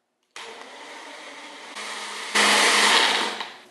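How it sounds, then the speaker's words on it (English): A kitchen blender purees cooked beets in their juice, starting abruptly with a loud steady whir and then stepping up twice to higher, harsher speeds before winding down, heard up close. "We're just going to pour this into the blender, including the beet juice that it comes along with."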